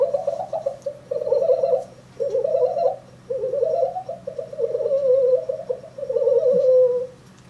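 A human voice imitates a pigeon's cooing, giving a series of soft, throaty, warbling coos in several bursts with short pauses between them, close and clear with no other sound.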